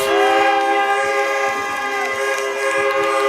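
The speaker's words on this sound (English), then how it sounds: "Got the train horn going and crowd going wild" Loud sustained multi-tone train horn blaring at a homecoming high school varsity football game as the West Columbus Vikings take the field, the chord holding steady throughout with crowd noise beneath it.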